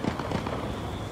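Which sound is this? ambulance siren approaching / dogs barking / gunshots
gunshots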